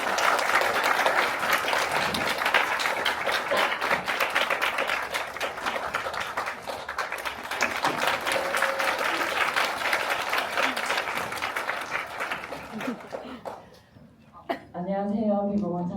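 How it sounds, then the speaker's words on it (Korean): Loud, sustained applause from a large cinema audience welcoming two guests at a film festival talk, fading near the end as a person begins speaking. "큰 박수로 두 분의 게스트를 환영해 주시기 바랍니다"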